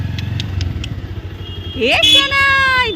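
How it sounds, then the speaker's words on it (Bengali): A motorcycle engine idles in a close, rapid putter, then a rising whine or horn-like tone cuts in loudly over it near the end. "পাপা আজকে বাইকে বসেছে, এই যে শোনাই"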